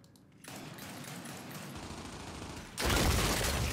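Sniper rifle fire in the Gears 5 video game during an Arcade Deathmatch on the District map, a dense burst of gunfire that jumps louder near the end, with continuous game noise throughout.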